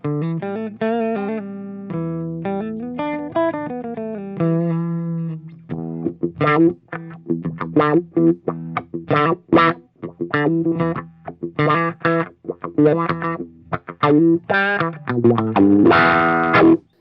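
An Aria Pro II XR electric guitar on its middle single-coil pickup plays through a wah pedal, sustained chords giving way to choppy, funky staccato strums, loud and up front.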